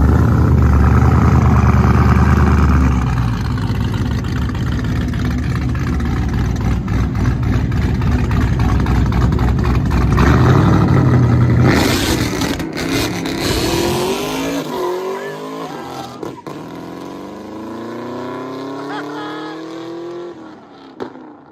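A Chevy Camaro SS 6.2L V8 with a loud aftermarket exhaust roars loudly and steadily, then revs up and down in rising and falling sweeps before settling, close and powerful.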